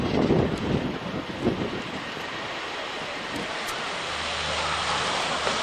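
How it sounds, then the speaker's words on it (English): A 70-ton Hercules transport plane manoeuvres at an RAF Waddington airshow, its engines a steady broad roar with wind buffeting the microphone at the start, and a low drone joins toward the end. "using the power from the airplane to demonstrate the maneuverability of this 70-ton aeroplane"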